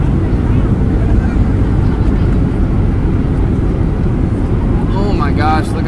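A Southwest airliner touching down on landing at Las Vegas, heard from inside the cabin as a steady loud roar of engine and airflow rumble, with a brief voice near the end.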